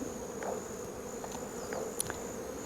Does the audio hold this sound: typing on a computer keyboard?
no